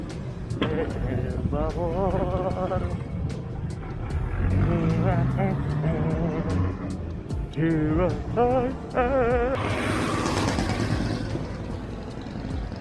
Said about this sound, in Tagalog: Yan na guys, traffic na.